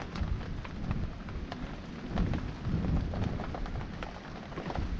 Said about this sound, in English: It has been rainy and windy all night.